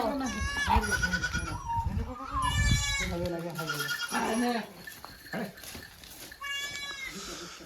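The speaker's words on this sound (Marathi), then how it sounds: "एकदम सुंदर पद्धतीचे पिल्ले या ठिकाणी शेळीने दिलेले आहेत" Repeated high, quavering bleats from a goat and her two newborn kids, close by and often overlapping, with short pauses between calls.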